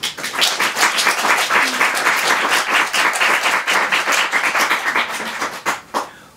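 Audience at a Japanese waka poetry and art event claps in a vote for the left side: dense, lively applause with crisp individual claps that carries on steadily, then thins to a few scattered claps at the end.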